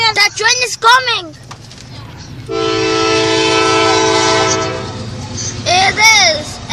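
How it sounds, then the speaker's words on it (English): A CSX freight train sounds its horn in one long, loud, steady blast as it passes. Excited voices and shouts are heard before and after the horn, and the low rumble of the train continues underneath throughout. "the train is coming."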